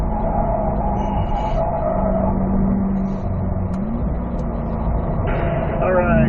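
A car accelerates on the Spring Mountain North Course race track, its engine a steady loud drone that climbs in pitch near the end, with a voice talking over it throughout.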